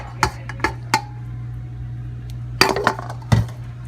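Greek village spaghetti with butter, feta and parmesan is tossed in a metal pan, giving a few sharp clinks and clatters of utensils against the pan over a low hum.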